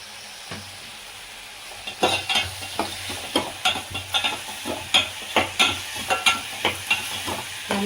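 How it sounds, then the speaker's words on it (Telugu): Okra frying for a vegetable curry, stirred in a pan: a steady oily sizzle broken by a rapid, fairly even run of scraping, clacking strokes from the stirring spoon, close and loud with no talk. "అలా బెండకాయ వేసి బాగా ఫ్రై చేయాలంట"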